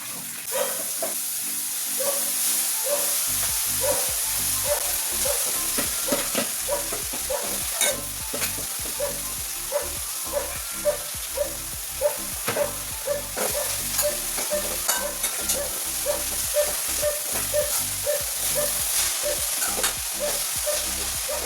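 Chopped leaves stir-fry in a pan of oil and turmeric, a continuous close sizzle with steady scraping and tapping from repeated stirring, carrying on alone without speech.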